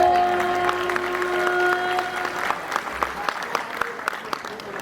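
A large audience applauding at a public talk in Vadodara, steady sustained clapping with crowd murmur, thinning into distinct individual claps toward the end.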